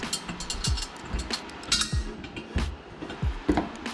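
Ratchet loosening the bolt that holds the oxygen sensor connectors on a Harley-Davidson Iron 883 during an exhaust swap: repeated close, quick clicking pawl bursts with metallic clinks, no voices.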